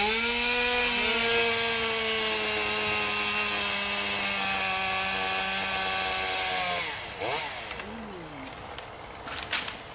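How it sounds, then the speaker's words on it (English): A chainsaw trims a tree on a site in London, revving at a high steady whine for several seconds, then dropping in pitch and cutting out, with faint knocks and rustles after. "the guys are now going to trim one of the trees on the site"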